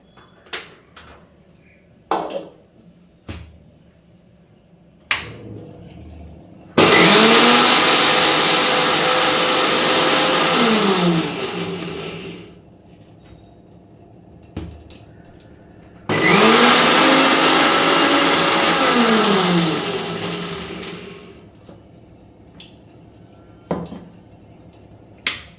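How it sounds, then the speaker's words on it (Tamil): A mixer grinder coarsely grinding ingredients for mor kulambu whirs loudly in two bursts of about six seconds each, its motor pitch rising and falling, separated by quieter clinking and kitchen handling sounds. "இப்போ அப்படியே அரைச்சிடலாம்."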